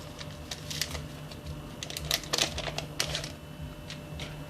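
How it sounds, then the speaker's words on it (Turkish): A whisk beats egg, salt and vanilla in a bowl for raisin bun dough, giving a steady run of quick, close clicking taps against the bowl with no voices. "Tekrar çırpıcı yardımıyla malzemelerimizi güzelce karıştıralım"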